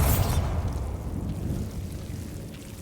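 The Bombarda spell explodes in the Hogwarts Legacy game with a heavy booming blast. A deep low rumble follows and slowly decays over a few seconds.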